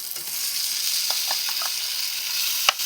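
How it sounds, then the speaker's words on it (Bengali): Spice-marinated chicken sautéing in a pan, a steady loud sizzle with a few soft clinks of stirring and a sharper knock near the end. "মশলা দিয়ে মাখানো মাংসটা এর মধ্যে দিয়ে এটাকে কষাবো।"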